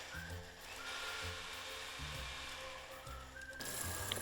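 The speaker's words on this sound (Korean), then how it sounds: "볶은 소금 150g에 말린 토마토를 넣고 갈아주세요." Grinder blending roasted salt with dried tomatoes, a faint continuous whir with a low pulsing rhythm throughout.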